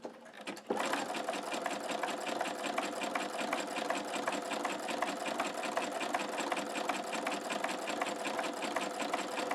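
An embroidery machine stitching a back tack on an in-the-hoop postcard, a loud, fast, even mechanical chatter running steadily after a brief quiet start.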